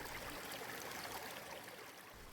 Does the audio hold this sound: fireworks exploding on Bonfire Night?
no